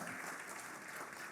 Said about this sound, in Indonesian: Beri tepuk tangan yang luar biasa.